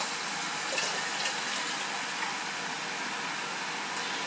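About 700 milliliters of hot water poured over copper sulfate to dissolve it, giving a steady, even rush of liquid that runs without a break from start to finish.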